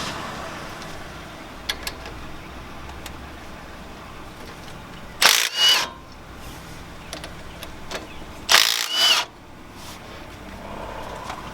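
An impact wrench removes 16 mm brake caliper bolts on a 2008 Ford F250, giving two short, loud whirring rattles a few seconds apart over quiet garage background.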